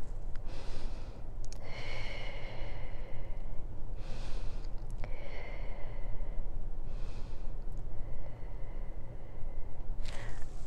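Breathing during a side-lying Pilates exercise: several soft, airy inhales and exhales come at an unhurried, steady pace over a low room hum, with no talking.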